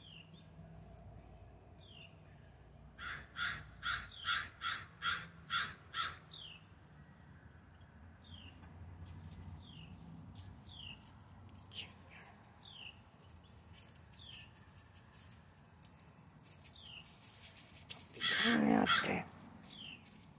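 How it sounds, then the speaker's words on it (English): A crow caws outdoors in a quick run of harsh repeated calls, followed by scattered sharper bird chirps, with a brief loud burst of noise near the end. "The crow's gonna come and get you."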